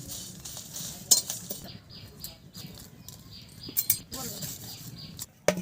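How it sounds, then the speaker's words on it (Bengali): Cumin, dried chilli and bay leaf fry in a pan with a steady soft sizzle, broken by a few sharp clinks of a spoon or spatula against the metal and some stirring scrapes, with no talk. "তেজপাতাটা ভেজে নেব।"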